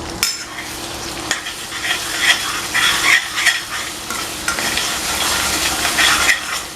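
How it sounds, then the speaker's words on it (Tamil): Ground onion and garlic masala fries in a pan over low heat while a spoon stirs it repeatedly, giving loud, close scraping and a continuous sizzle with clinks of metal. "ஸ்டவ் லோ ஹீட்லேயே வச்சுட்டு மசாலாவை நம்ம நல்லா கலந்து விடணும்"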